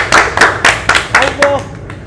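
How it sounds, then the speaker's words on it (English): A small group in a classroom gives a short round of applause for a presenter, about six distinct claps in a loose rhythm, close and fairly loud. "Let's clap for Aziz."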